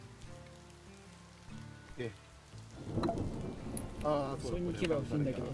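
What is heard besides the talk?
rain and thunder in the video game ACOLONY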